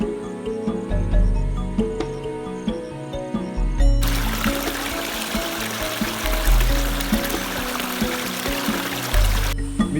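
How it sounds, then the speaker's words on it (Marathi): A river flows through jungle in the hills of Yeoor in Sanjay Gandhi National Park, its loud, steady rushing water joined by chirping insects and crickets nearby. "ही प्रॉपर अशी नदी वाहते इकडे"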